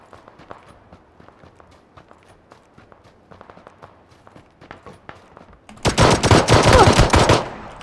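Pistol gunfire in a custom-mode shooter video game: a low, scattered string of soft shots and footsteps, then a loud, dense burst of rapid firing in the last two seconds.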